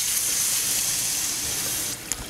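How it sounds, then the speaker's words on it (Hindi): Water poured into a pan of roasted potatoes while making dum aloo, a steady close hiss of running liquid lasting about two seconds before stopping abruptly. "इसमें डालेंगे पानी"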